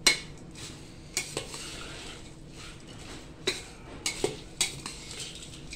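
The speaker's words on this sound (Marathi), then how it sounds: "आता आपण ही भेळ मिक्स करतोय मंडळी" Bhel, the Indian puffed rice street snack, being mixed in a bowl with a spoon, giving scattered metallic clinks and scrapes against the dish over a soft background, no voices.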